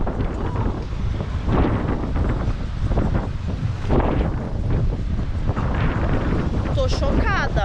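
Strong, gusty wind on the beach at Caraguatatuba on Brazil's north coast roars and buffets the microphone in a continuous loud rumble, with a brief voice surfacing near the end.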